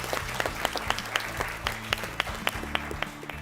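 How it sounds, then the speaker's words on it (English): Audience applause for a quiz team at a televised school quiz contest, a dense burst of clapping with sharp individual claps over a low hum, steady and fairly loud for a few seconds. "Ladies and gentlemen, please clap for them."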